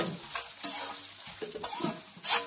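Dry red chillies, cumin seeds and chana dal fry on a low flame for a tadka, giving a soft, steady sizzle broken by stirring scrapes and a louder clatter near the end.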